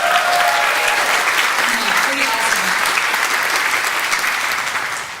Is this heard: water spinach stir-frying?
no